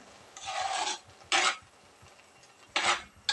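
A spoon scrapes around a pot of beetroot pachadi mixed with curd in three separate rasping strokes, each loud and close against a quiet background.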